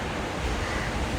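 Ocean waves heard from a seaside room in India, a continuous close roar of surf with wind buffeting the microphone, no voices.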